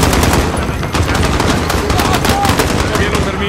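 Rapid bursts of automatic gunfire crackle loudly and continuously in a Piccadilly Circus shootout scene in a realistic PS5 shooter, with dense rattling shots throughout.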